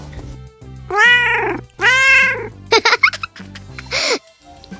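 Cartoon cat meowing in a children's animated show, several drawn-out, bright meows alternating with short chirpy squeaks and a giggle-like cry, close and loud with quiet pauses between.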